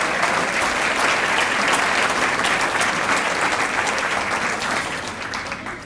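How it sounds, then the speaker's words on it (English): A school event audience gives a high school jazz band dense, steady applause that holds strong, then gradually thins and fades toward the end. "Let's give one more round of applause to the Lincoln High Jazz Band"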